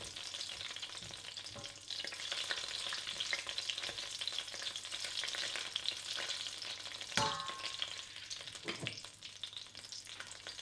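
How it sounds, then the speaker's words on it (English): Dry spices for a lamb curry fry in hot oil in a pan, giving a steady, fairly loud sizzle and crackle while a spoon stirs through them. A sharp clink of utensil against the pan sounds once near the middle, and no one speaks. "To this we add our dry spices and stir around."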